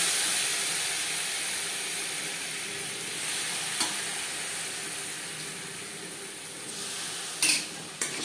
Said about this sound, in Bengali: মশলা দু তিন মিনিট কষিয়ে নেওয়ার পর দিয়ে দেবো পেঁপে